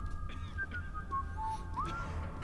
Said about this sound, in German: Pfeift mir nicht ins Ohr, das ist unhöflich.